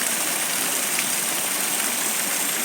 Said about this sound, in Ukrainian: А давайте послухаємо, як ця вода шумить.